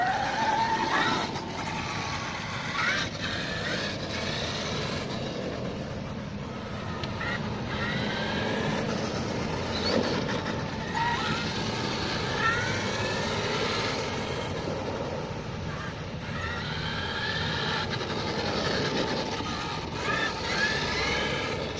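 A Traxxas X-Maxx RC truck running on 6S power with a light kit fitted, driving around a car park: a steady, loud whine of the electric drivetrain and tyre rumble runs continuously throughout, with no talking.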